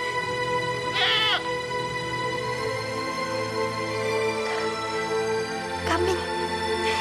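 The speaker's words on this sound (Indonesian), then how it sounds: "Kambing." A goat bleats in several short wavering calls, a clear one near the start and fainter ones later, over a constant musical score and low background voices.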